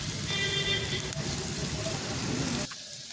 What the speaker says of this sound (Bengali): পেঁয়াজ আর ক্যাপসিকামটা ভালো করে একটু ভেজে নেব